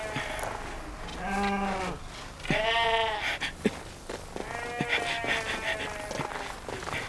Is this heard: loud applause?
no